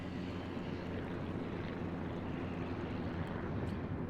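An aircraft engine drones in the World of Warships naval battle game, a steady, dense, low rumbling roar that holds at an even level without breaks.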